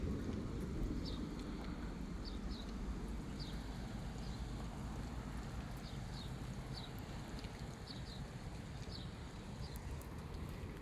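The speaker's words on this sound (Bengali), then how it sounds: "মেঘ নাই কোনো কিছু নাই বৃষ্টি হচ্ছে" Rain falls in Saudi Arabia under a clear sky, a faint, steady wash of noise with low rumbling, while small chirps sound intermittently in the distance.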